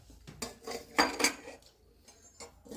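Small metal bowls lifted out of an old paan box, a rare piece about 250 to 300 years old, clink and scrape in a few short bright knocks, close and fairly quiet, with no talk.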